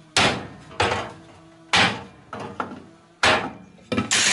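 A large hammer beats sheet metal held between two angle irons over a straight wooden plank, giving loud, heavy blows in pairs, each ringing briefly before the next strike.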